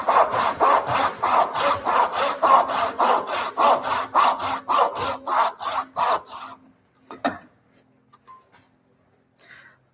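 Rhythmic back-and-forth sawing through wood while a whistle is being carved, about a dozen close, even strokes, then the sawing stops and a few faint knocks and taps follow in near silence.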